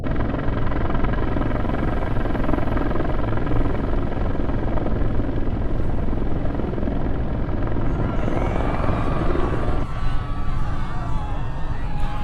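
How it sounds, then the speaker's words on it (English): Loud, steady rotor thumping of helicopters fills the whole stretch, a dense roaring drone with a faint whine rising near the end. "3 helicopters came crashing through the greenhouse"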